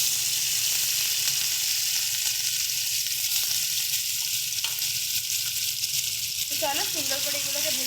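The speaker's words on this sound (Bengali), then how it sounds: "চলো সুন্দর করে এগুলোকে ভেজে নিচ্ছি।" Paneer cubes coated in salt and turmeric fry in hot oil, producing a steady, dense sizzle throughout, with a brief voice near the end.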